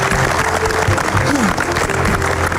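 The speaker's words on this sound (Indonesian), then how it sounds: "Kita kasih tepuk tangan sekali lagi." A studio audience on the Indonesian talk show Hitam Putih claps loudly for a Paskibraka flag-raising team member, a close, dense burst of applause with a faint voice beneath.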